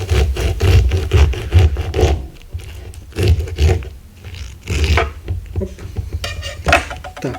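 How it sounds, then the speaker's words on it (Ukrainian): A knife slices through an orange in several rough, scraping strokes, close and fairly loud, with brief pauses between cuts. "Беремо ножика, беремо апельсинку і розрізаємо."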